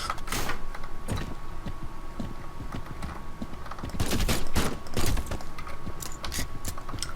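Gunfire in the Haydee video game, rapid bursts of sharp shots in fast volleys over a steady game background, loud and close, with no talk.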